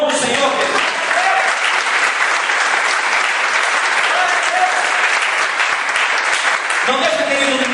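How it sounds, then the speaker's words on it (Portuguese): A church congregation applauding during a sermon, loud sustained clapping throughout, with a speaking voice over it at the start and end. "Você pode aplaudir no nome do Senhor?"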